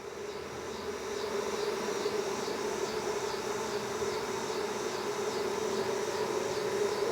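Honey bees buzz steadily inside a jar during a varroa mite test, a close, continuous hum with no voices over it.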